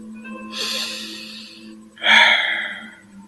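Two deep breaths during a guided meditation: a long inhale followed by a stronger, louder exhale, both close and clear over a faint steady background tone.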